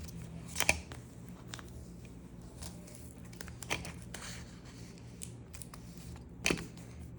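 Scissors make a few quiet, separate snips and paper rustles as paper is cut in a junk journal, close up in an otherwise calm room.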